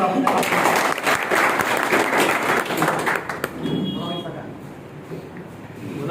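An audience claps at a birthday celebration, a dense patter of applause for about three seconds that then thins out, with voices talking over and after it.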